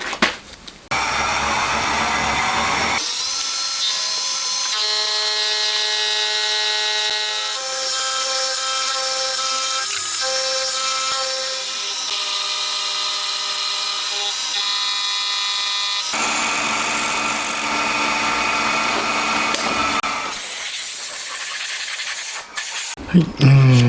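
A motorcycle engine part clamped against a thin steel plate is machined down, giving a loud, sustained, high whining tone with shifting ringing pitches that holds for about twenty seconds, briefly changes character, then cuts off.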